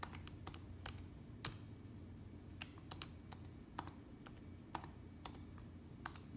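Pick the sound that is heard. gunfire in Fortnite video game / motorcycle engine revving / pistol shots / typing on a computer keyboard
typing on a computer keyboard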